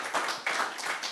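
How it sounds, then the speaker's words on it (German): Audience applause at a German talk-show event, a short burst of clapping in two swells, moderately loud and close with no voices over it. "Wir haben geklatscht und wir klatschen"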